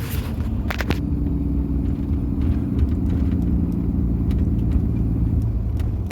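A 2009 third-generation Dodge Ram pickup towing a trailer on airbag suspension rolls over bumpy road, giving a steady low engine and road rumble with a few brief knocks and rattles near the start.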